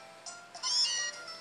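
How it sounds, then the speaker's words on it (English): A cat meows faintly in a quiet room, one drawn-out high cry rising and then fading, with no one talking. "Shush, you silly kitty cat."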